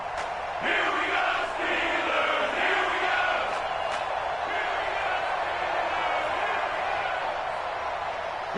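Crowd in a PS4 football video game roars and cheers steadily at a big play, broad loud noise filling the stadium, with a few brief shouts rising above it.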